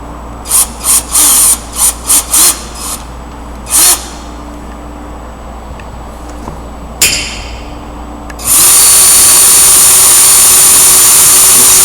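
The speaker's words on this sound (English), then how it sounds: "there is the drill" A power drill bores into material during a StrainCell installation, starting with short stop-start bursts, then a clunk, then a long, loud, steady high-pitched whine.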